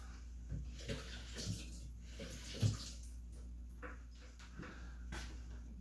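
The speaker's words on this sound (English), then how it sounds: "Let me rinse my hands off." A faint tap runs in the background while hands are rinsed under it, giving a soft, steady wash with small splashes and light knocks in a quiet kitchen.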